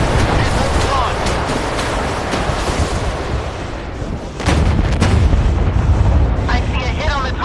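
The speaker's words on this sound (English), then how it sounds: "Missile launched." A warship launches a missile in the naval combat game Force of Warships: a loud, continuous roaring rumble with a heavier boom partway through, and a voice speaking over it.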